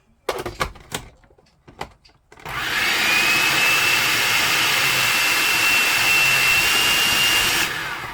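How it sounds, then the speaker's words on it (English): Food processor pureeing cooked pumpkin runs as a loud, steady whirring motor drone for about five seconds, then cuts off. A few clicks and bumps of the machine come before it starts. "that would determine how long you run the food processor for"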